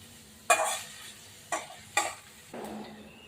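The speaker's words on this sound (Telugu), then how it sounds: "ఆనియన్ బాగా రోస్ట్ అవ్వాలండి" Onions roasting in a pan for an egg curry, heard as a few separate bursts of stirring and sizzling against a low steady background, close and fairly loud, with no talk.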